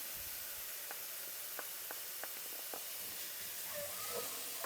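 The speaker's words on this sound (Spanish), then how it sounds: "y sofreímos unos minutos hasta pochar bien la cebolla, el ajo y el ají" Garlic, onion and pepper sautéing in a pan for ropa vieja, giving a steady, faint sizzling hiss with a few brief crackles and spatters, heard alone.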